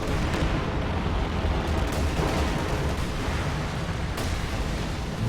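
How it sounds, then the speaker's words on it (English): Incendiary artillery barrage in a WWII strategy game match, a dense, continuous roar of rumbling blasts and crackling fire with sharper bursts near the start and around four seconds, loud and steady throughout. "Incendiary artillery over here."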